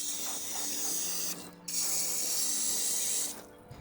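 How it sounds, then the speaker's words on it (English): Water pours steadily from a spout onto a garden bed's soil, a close hissing splash that briefly pauses midway and then resumes. "So I'm going to give them a really good water, get that soil really soaked through"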